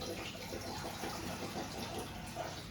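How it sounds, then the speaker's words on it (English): Water poured out for a dog to drink, a steady gushing, splashing flow that runs continuously and close by, with no voices. "I'm going to give the dog some water."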